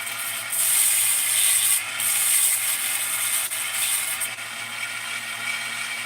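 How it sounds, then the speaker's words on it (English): A steady, close abrasive grinding rasp runs continuously while a part is trimmed to fit, with brief dips in the middle and no talk. "I'm just grinding something"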